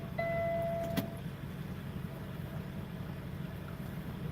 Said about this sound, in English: I gotta put this window up.